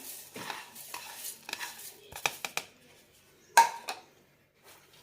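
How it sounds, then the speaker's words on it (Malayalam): Ground flax seed powder is scraped and tipped from a grinder jar into a bowl, giving a few scattered clinks and scraping knocks with pauses between them, close and moderately loud. "ഇതൊരു ബൗളിലേക്ക് മാറ്റാം."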